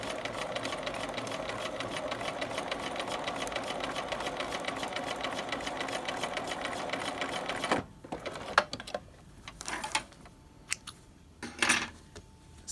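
A sewing machine stitches piping onto a V neck in a fast, steady mechanical whir for about eight seconds, then stops, followed by a few clicks and short handling noises.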